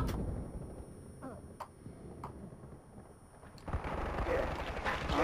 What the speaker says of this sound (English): Oh god, stop shooting me!